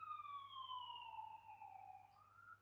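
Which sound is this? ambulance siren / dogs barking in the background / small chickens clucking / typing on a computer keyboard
ambulance siren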